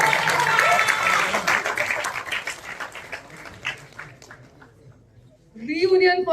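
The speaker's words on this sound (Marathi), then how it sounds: "खूप जोरदार टाळ्या अशोक सराफ यांच्यासाठी सुद्धा झाल्या पाहिजे" Applause for Ashok Saraf at a Marathi film trailer launch: a crowd claps loudly, then the clapping thins and fades before a voice starts speaking near the end.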